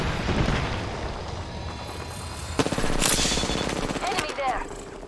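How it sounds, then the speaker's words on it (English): Call of Duty: Modern Warfare II gunfire, with rattling bursts and sharp cracks amid loud battle noise, a voice talking through it. "They're shooting at me."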